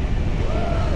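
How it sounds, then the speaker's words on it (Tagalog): Strong wind roars across the microphone during a city bike ride, a loud continuous rushing blast with a faint tonal whine sweeping through it. "Lakas ng hangin."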